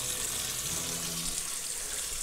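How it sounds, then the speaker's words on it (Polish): Cold tap water pours into a large pot of pea and bean soup set in a kitchen sink, a steady close splashing stream that holds evenly for the whole stretch, with no talking. "I lejemy zimną wodę."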